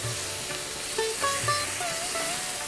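Fried vegetables for a lentil-fritter mixed vegetable curry hiss and crackle in a hot pan as a little water goes in, a steady close sizzle with faint metallic clinks and no talking.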